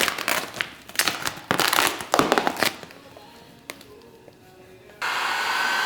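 A heat gun blows on vinyl wrap over a car's front bumper, its airflow rising and falling in bursts alongside handling noises, then settling into a steady whoosh at the end.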